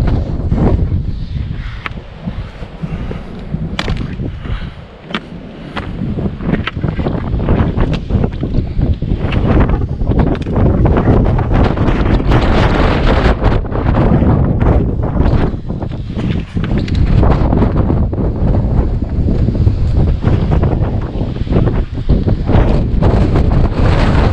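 Strong wind gusts on Guadalupe Peak roar and buffet the microphone nonstop, loud rumbling blasts that surge and ease in waves across the whole stretch, with no voices.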